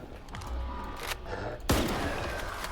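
Gunfire in the shooter S.T.A.L.K.E.R. 2: Heart of Chornobyl, a few sharp close shots with one heavy crack near the end over a low rumbling game ambience, no talking.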